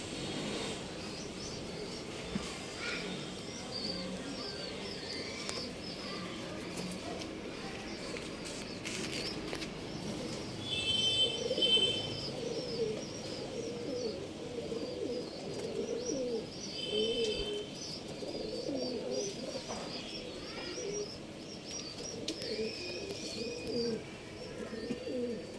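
Pigeons (phatta) coo softly and keep cooing over a low background murmur, with occasional chirps and faint rustling. The sound carries at a moderate distance and no one speaks.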